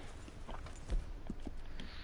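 Horse hooves clip-clop at a slow walk in Red Dead Redemption 2, a few soft, close steps over a low ambient rumble, with one heavier thud partway through.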